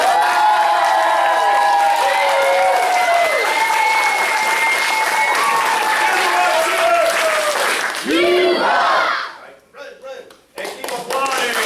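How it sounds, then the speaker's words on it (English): Audience at a martial arts belt ceremony at the Mount Dora Family Martial Arts Center claps loudly and steadily for new yellow belts, voices chattering over it, the applause dying away near the end into scattered claps. "Give them a big round!"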